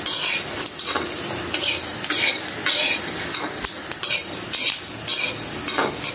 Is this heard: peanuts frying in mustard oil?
yes